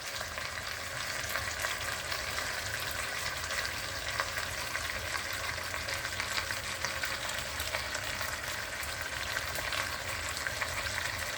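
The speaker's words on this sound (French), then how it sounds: "Il faut laisser la viande cuire au petit feu" Meat frying slowly over low heat in a pan, a close, even, continuous sizzle and crackle with no pauses and no talking.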